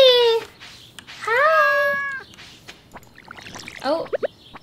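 A cat in the video game Stardew Valley meows twice, clear and close, with a short bright chirpy call near the end, over faint background game ambience.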